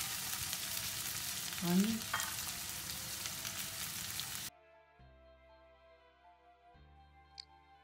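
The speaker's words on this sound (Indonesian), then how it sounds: "Tumis bumbu sampai berubah warna." Bird's eye chili and spices sauté in a pan with a loud, dense sizzle that cuts off abruptly partway through, leaving faint low background noise and a brief spoken word.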